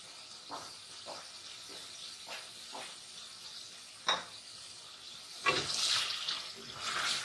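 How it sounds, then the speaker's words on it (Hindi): Water pours into a cooking pot of fried potatoes and spices for korma, splashing with a hissing, sizzling edge, growing heavier toward the end, with a few soft clinks earlier on. "अब मैं इसके अंदर पानी डालूंगी।"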